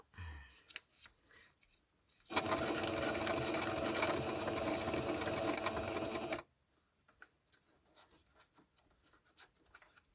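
A sewing machine stitches through paper lace for a junk journal embellishment, a steady loud whirring run of about four seconds, close up and alone, framed by faint handling rustles before and after.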